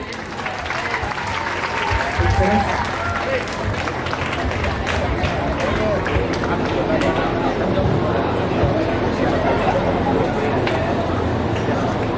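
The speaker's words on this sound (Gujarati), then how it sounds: "જોરદાર તાળીઓથી વધાવી લઈએ" Audience applause for an MLA at a public event, sustained dense clapping from a crowd lasting throughout, with some chatter and voices mixed in.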